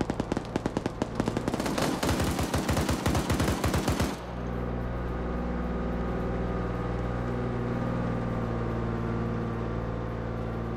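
Rapid, loud bursts of automatic gunfire rattle for about four seconds at a Bradley armored vehicle in a combat video game, then give way to a steady low engine rumble.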